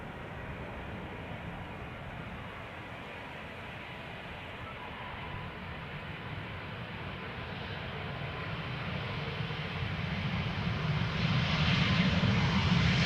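A KLM Embraer E2 jet airliner passes, its engine roar swelling steadily from a moderate drone to a louder, nearer rumble, with faint talk in the background.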